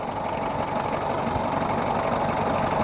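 A Mitsubishi Kuda diesel engine runs at a steady idle with a continuous, rumbling, slightly knocking drone heard close up with no voices.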